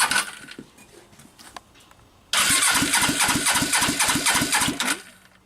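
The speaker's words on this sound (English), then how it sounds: "Let's crank over again." A Suzuki GS500 motorcycle engine being reinstalled in a project bike cranks over with a loud, rapid rhythmic chugging from the starter for a few seconds, then fades, and no clear running idle follows.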